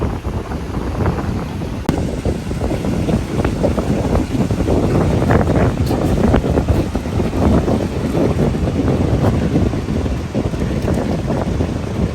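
Strong, steady wind roars and buffets the microphone on a gloomy day in Rojas, a continuous loud rush with no letup and no talking.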